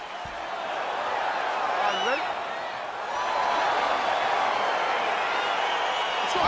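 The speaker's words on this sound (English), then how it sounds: "crowd getting excited as this fight gets underway" Crowd noise swells in the UFC 4 video game as a fight begins, a steady roar with faint whoops and scattered cheers. A commentator's voice talks over the crowd.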